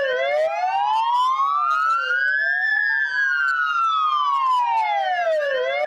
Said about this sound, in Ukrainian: Сирени з півтора десятка гучномовців востаннє лунає для фельдшера Сергія Ротару над станцією швидкої.